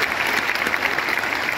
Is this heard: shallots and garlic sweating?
no